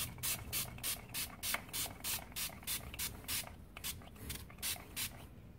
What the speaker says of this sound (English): these gloss sprays have to be well mixed